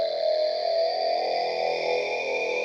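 A sustained wavetable synth tone drones steadily, its timbre shifting slowly as the wavetable position is modulated, softened by a gentle low-pass filter, alone without voices.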